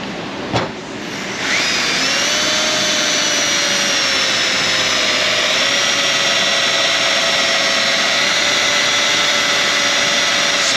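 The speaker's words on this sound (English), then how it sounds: "Drill bit coming in" A power drill bores out an exhaust stud on an Infiniti FX35 3.5, starting after a sharp knock and then running as a loud, continuous high whine close by for the rest of the stretch.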